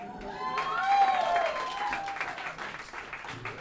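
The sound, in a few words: audience applause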